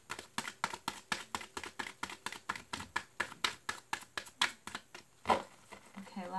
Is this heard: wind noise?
no